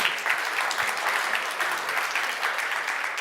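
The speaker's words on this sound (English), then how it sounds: "Give him a big round of applause" Dense, steady applause from a large conference audience, a continuous wash of clapping with no pauses.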